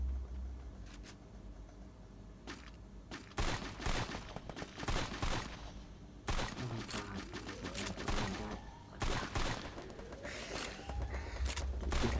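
Gunfire in the Free Fire video game comes in rapid bursts and clusters of shots, loud and close, separated by short quiet gaps across the stretch.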